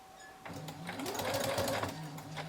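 Sewing machine stitching semi-parallel quilt lines, a steady mechanical whir that speeds up for about two seconds and then slows, close and clear with no talking.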